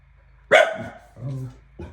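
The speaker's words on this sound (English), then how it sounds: "There's no need to bark." A dog barks at a passing woman and dog, one sharp loud bark followed by a shorter lower bark and a brief third yelp, close by in a quiet room.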